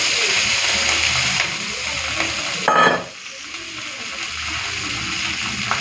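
Set-aside chorchori poured into a pan holding a fried fish head, a steady loud sizzle of frying with a brief swelling splash midway, close and continuous throughout.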